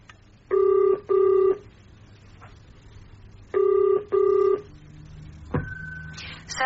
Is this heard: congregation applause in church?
no